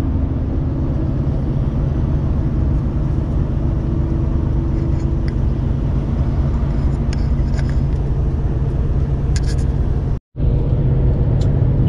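A car climbs a hill behind a tanker truck, heard from inside as a loud, steady engine and road rumble that drops out for a moment near the end.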